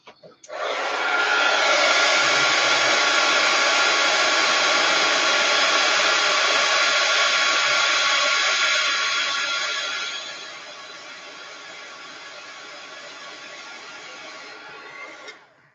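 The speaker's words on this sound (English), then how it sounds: "let me put the heat gun to it for a minute" A heat gun blows steadily on stamped tissue paper to dry it, giving a loud, continuous whooshing roar for about ten seconds. It then drops to a lower, quieter hum before cutting off.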